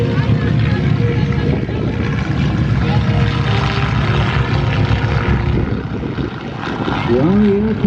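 Propeller airplanes taking off in formation at an airshow fill the air with a loud, sustained engine roar. Voices are faintly mixed into the drone.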